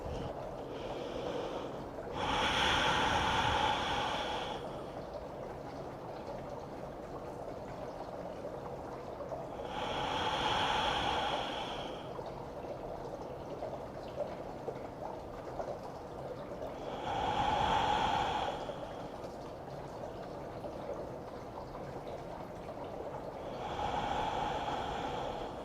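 Four slow, deep breaths during a hatha yoga pose, each a soft airy rush lasting about two seconds and spaced roughly seven seconds apart, close and quiet over a faint steady background hiss.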